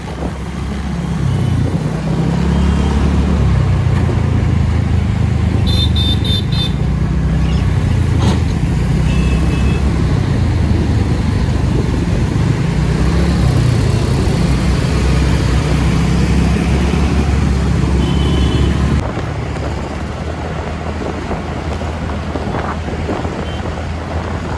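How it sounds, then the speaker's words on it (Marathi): Heavy road traffic on a Mumbai highway heard from a moving motorbike, with loud, continuous wind rush and engine rumble and brief horn beeps early on, easing slightly near the end. "ह्या लाईनीला ना ट्रॅफिक खूप आहे"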